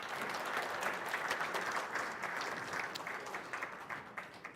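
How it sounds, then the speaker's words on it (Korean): A civic audience applauds the mayor of Incheon at a citizens' dialogue event, steady clapping throughout that turns more scattered near the end. "시장님께 큰 박수 부탁드립니다"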